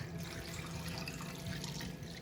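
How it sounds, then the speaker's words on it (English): Chicken stock being poured over marinated potatoes in a home kitchen for a Greek dish, a steady, continuous liquid splash and trickle filling the whole short moment with no talk. "So now that my potatoes are nice and marinated, I'm just gonna add my chicken stock. Just pour it in there."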